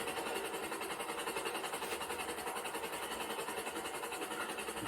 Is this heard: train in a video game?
yes